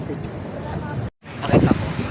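Steady wind at the Mall of Asia rumbles and buffets the microphone, with a brief cut to silence midway; people's voices murmur underneath.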